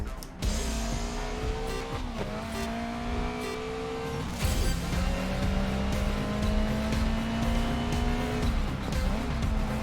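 Race car engine in the Grid Legends video game, a loud sustained engine whine rising through gear changes, with tire squeal and skidding over continuous road noise.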